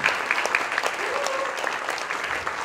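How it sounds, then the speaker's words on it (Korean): An audience at a church book-launch gathering claps, a steady wash of applause while a few voices murmur and call out faintly underneath. "박수 한번 해주시기 바랍니다."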